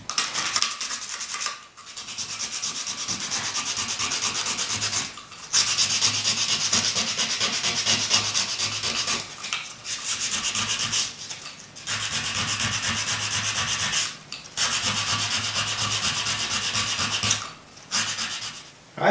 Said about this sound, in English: getting all the old glue, all the old adhesive, whatever they use, off from there as much as I can